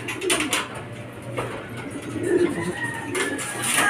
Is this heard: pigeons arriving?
yes